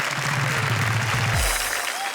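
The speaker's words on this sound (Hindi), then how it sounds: "हम जोरदार तालियों से स्वागत करें" Audience applause greets a poet at a Hindi comedy poetry stage show, a steady burst of clapping from a crowd that swells and then fades over about two seconds.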